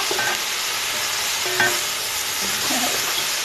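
A leek, garlic and tomato mixture with a stock cube sizzles steadily in a pan over a very high flame while it is stirred, with a few scraping strokes against a constant frying hiss.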